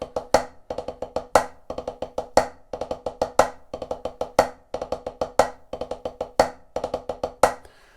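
Snare drum plays the ratamacue rudiment, alternating right- and left-hand stickings in repeating bursts of quick strokes, each ending in a sharp accented hit, close and crisp with no talking.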